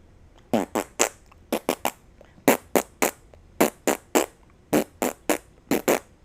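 A rapid string of short, loud farts in a bouncy, tune-like rhythm, close up, with no talking.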